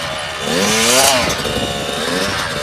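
A motocross dirt bike engine revving during a one-on-one riding lesson, a buzzy two-stroke-like whine that rises to a peak and settles back to a steady drone, close and loud.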